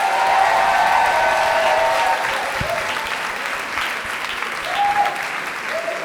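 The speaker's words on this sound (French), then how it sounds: "est-ce qu'on peut pas les applaudir bien fort," Studio audience at a season finale applauding, a dense, continuous wash of clapping with some crowd noise and faint cheering, loud and close throughout, easing slightly midway.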